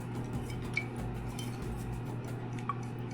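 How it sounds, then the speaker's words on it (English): A spoon stirring hickory barbecue mustard sauce, with soft scraping and a couple of light metallic clinks against the container over a steady low background hum. "I got a spoon, and I think a good idea would be to mix this a little bit"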